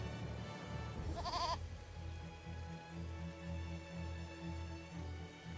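A goat in the video game Eternal Sonata bleats once, briefly and fairly quietly, while eating paper, over a soft, steady musical background.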